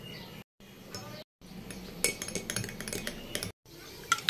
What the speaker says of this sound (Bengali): এই যে আগার আগার পাউডারটা আমি গুলে নিছি ভালো করে।